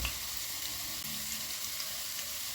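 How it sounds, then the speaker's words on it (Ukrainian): Garlic and bay leaves fry steadily in a hot pan over high heat, a dense close-up sizzle that holds constant throughout without any voices. "Смажимо все на великому вогні."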